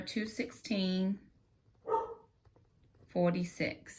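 A dog barks indoors a few times in short bursts, fairly close, interleaved with someone talking.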